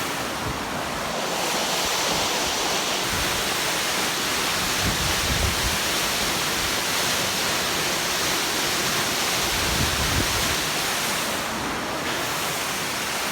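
Tea Kettle Falls waterfall on a creek hike, a steady loud roar of rushing, crashing water filling the whole clip with no talk.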